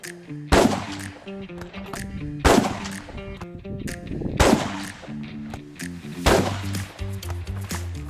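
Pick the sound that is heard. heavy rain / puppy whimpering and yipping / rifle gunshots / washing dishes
rifle gunshots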